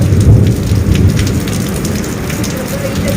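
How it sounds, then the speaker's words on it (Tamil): Heavy summer rain pours steadily outside a house, a dense continuous hiss with low rumbling thunder rolling underneath, loud and close throughout. "பாருங்க நல்ல மழை பெய்யுது தண்ணியை பாருங்க நம்ம வீட்டு வெளியில சரியான மழை நல்லா இடி"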